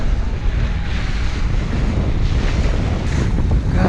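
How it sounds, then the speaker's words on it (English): Strong wind on a sailboat on the Mississippi River, a loud, steady roar of gusts buffeting the microphone, with water rushing beneath it and no break throughout. "Golly, the wind really picked up."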